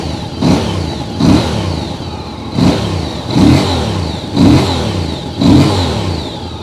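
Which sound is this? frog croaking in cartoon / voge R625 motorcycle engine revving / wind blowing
voge R625 motorcycle engine revving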